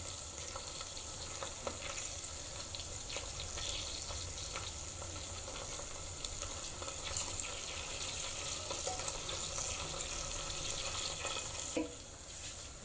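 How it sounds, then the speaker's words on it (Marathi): Curry leaves hit onions frying in hot oil, giving a steady crackling sizzle with sharp spitting pops throughout, close and fairly quiet, alongside occasional stirring. "आता आपला कांदा मस्त फ्राय झालेला आहे, त्यात आपण कढीपत्ता टाकूया।"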